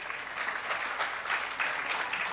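Audience applause at a Jain religious discourse, steady and sustained clapping from a crowd with no voices over it.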